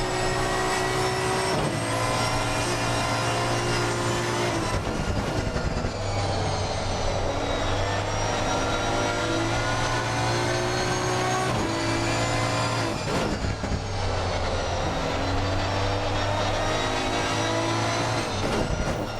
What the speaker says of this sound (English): Definitely hear that traction control. Trying to keep the power of the Aston under control.